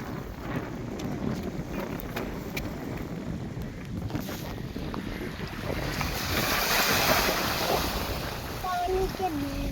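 Sea waves wash along the shore at Satpati beach, where boats sit near the water, a steady broadband surf with wind across the microphone, swelling slightly louder toward the end.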